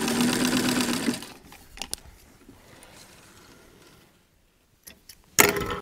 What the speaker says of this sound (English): I'm going to sew to just past these sleeve notches.